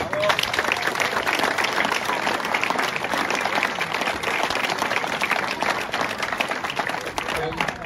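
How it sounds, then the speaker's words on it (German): Festival crowd applauding at a street fair keg-tapping, steady dense clapping filling the whole stretch with voices mixed in underneath. "Und da hat er sich von der Herbsthäuser Brauerei einen großen Applaus verdient."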